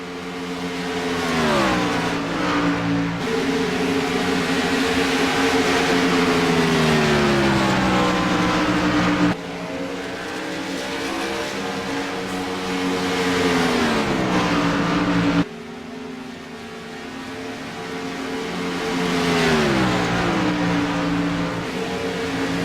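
Racing trucks roar around the track in the Keep On Truckin 150, engines rising and falling in pitch as they pass close by in a continuous loud pack, with no talking.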